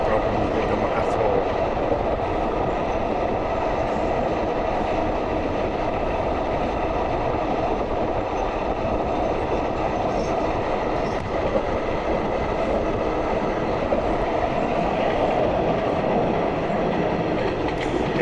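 A night sleeper train, number 83 from Bangkok to Trang in southern Thailand, runs along the railway with a steady loud rumble and faint clickety-clack of wheels throughout, holding an even level the whole time.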